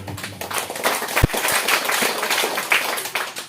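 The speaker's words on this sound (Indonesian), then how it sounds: "Kami minta Bapak Ibu tepuk tangan dulu." A meeting audience applauds together at an evaluation gathering of the organising committee for the first Mass of Father Yohanes May Mega OCD; the clapping is dense, steady and fairly loud, with a single sharp clap standing out near the middle.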